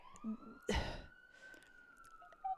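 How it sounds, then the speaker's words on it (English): A faint, distant ambulance siren near a hospital holds a steady rising tone in the background, with a short rustling burst near the start. "I hate hearing ambulances."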